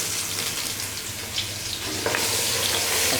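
Garlic-ginger paste hitting light-brown frying onions in hot oil, a loud continuous sizzle that swells and brightens partway through as the paste goes in, with a little stirring alongside.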